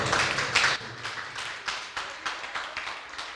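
A church congregation applauds, opening with a fuller burst of clapping that thins into scattered, separate claps and fades steadily over three seconds.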